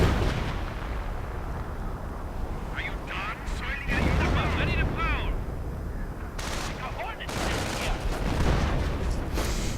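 Howitzer artillery fire in a World War II real-time strategy game, with heavy booming blasts and rumbling explosions layered over dense battle noise and continuous commentary.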